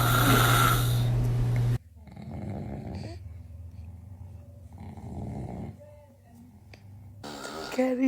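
A dad snores in long, loud, rumbling breaths, one heavy snore then quieter repeated snoring, recorded close with a person speaking briefly.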